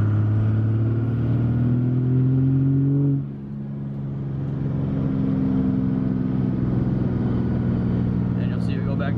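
Diesel truck engine under load building boost, a loud steady drone and whine rising in pitch, then briefly dropping before pulling again as the throttle comes back on.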